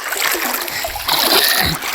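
Water splashing in a swimming pool, loud and close, with churning splashes and sloshing bursts that continue without a break.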